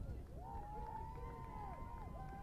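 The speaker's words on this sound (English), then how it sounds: "The stands begin to rumble on 3rd and 10." High school football crowd in the stands at Lapeer, Michigan, for Davison at Lapeer, rumbling on third and 10: a steady, dense crowd roar with a few rising and falling whistle-like tones across it.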